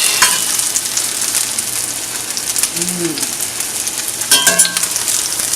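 A freshly flipped potato pancake fries in a hot pan with a loud, steady crackling sizzle, joined by a couple of light utensil clinks.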